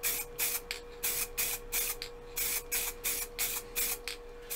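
Ebonizing lacquer is sprayed onto a woodturned piece in about a dozen short, even bursts of hissing spray, close and steady in rhythm, with a faint constant hum underneath.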